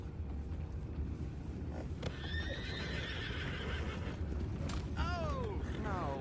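Horses whinny and neigh a few times in Red Dead Redemption 2 over a low rumbling background, with hooves clopping and faint creaks nearby.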